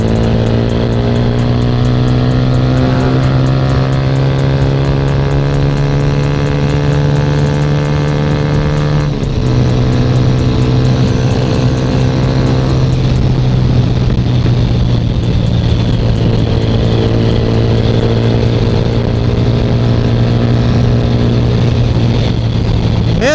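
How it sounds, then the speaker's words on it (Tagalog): A motorcycle engine, a Sigma, idles steadily with a deep, even hum during a tune-up, pitch dipping slightly partway through, running continuously close by. "Nandaway tayo kay Lapuroy para ipatune up yung motor natin."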